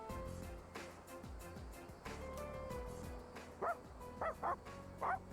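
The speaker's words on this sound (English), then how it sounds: "I wonder if the same guy does the other dog's voice." Cartoonish dog barks from the video game Persona 3 Reload, a few short yips near the end over steady game music and background sound, with a voice talking at points earlier.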